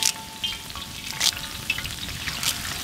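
Curry leaves crackling in hot sesame oil (nallenna) for tuna fish pickle: a vigorous, close sizzle with sharp spits and pops repeating over a few seconds.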